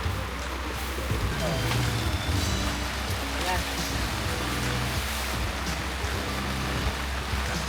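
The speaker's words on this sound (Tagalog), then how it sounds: "Dito na kami sa Lake Tabeo. Currently umuulan." Steady rain falling at Lake Tabeo, a dense continuous hiss close around, with people talking and moving over it throughout.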